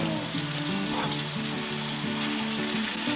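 Bacon strips woven flat and sizzling on a Blackstone griddle beside seasoned hash browns, a steady close crackling fry with no talk.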